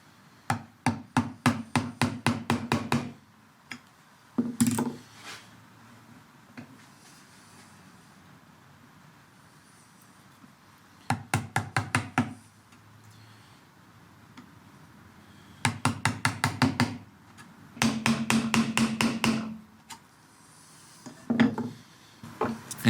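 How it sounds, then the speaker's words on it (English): Mallet strikes on a 25 mm wood chisel chopping out a 14 mm wide mortise for a table, coming in rapid bursts of sharp, close knocks with pauses and softer scraping between them. "you don't actually need a vise to chisel out a mortise"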